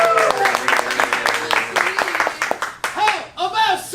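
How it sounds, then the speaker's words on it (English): Audience clapping at an improv comedy show, a dense wash of hand claps over loud whoops and voices, tapering off toward the end. "Let's get a round of applause if you think Please Clap is in the lead."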